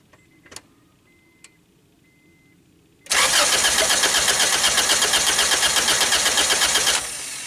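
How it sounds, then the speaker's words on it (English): An Acura Integra engine cranks over steadily at wide-open throttle for a compression test, a loud, close, rhythmic starter churn lasting about four seconds after a few faint clicks, then cutting off. "so I'm going to go ahead and crank it over a few times, see what our compression is"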